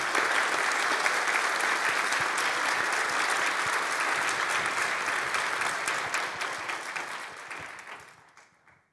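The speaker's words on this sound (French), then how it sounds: "Vous pouvez déjà les applaudir." A lecture audience applauds at length after a talk on making spirits and gods present, steady dense clapping that holds for most of the stretch, then thins and fades away toward the end.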